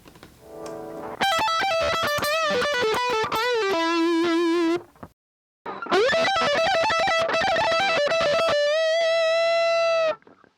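Heavily distorted electric guitar through a Carl Martin Crush Zone pedal, high gain with reduced treble, playing sustained notes and bends, loud and saturated, with a short silent break midway before a ringing held note.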